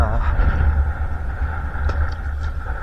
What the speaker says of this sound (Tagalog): grabe rin yung amihan mga bats